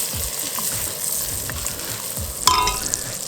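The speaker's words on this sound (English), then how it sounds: "So, the sausage is cooking up really nice, quick." Sausage sizzles and crackles in a pan with butter, garlic and basil on a single-burner camp stove, a close, steady hiss broken by a brief louder spatter of pops, with no talk.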